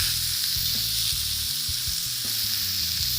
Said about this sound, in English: So we're only going to fry them for a few minutes, turning all of the time.